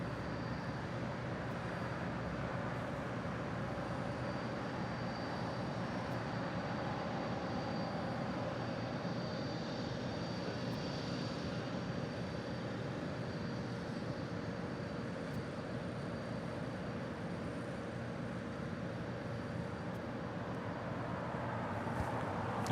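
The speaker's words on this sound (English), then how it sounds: "That flight coming in from Santiago, flight 602 there with Latam Airlines. It's the 787-8 Dreamliner." A Latam Airlines Boeing 787-8 Dreamliner arriving at Los Angeles International Airport from Santiago produces a faint, steady, distant jet engine rumble that holds throughout.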